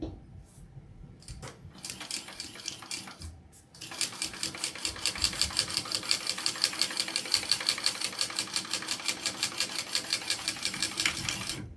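A domestic sewing machine runs a full seam allowance on a Bartleby garment with lining, a steady rapid needle patter after brief start-stop bursts, close and continuous, with quiet talk underneath at first.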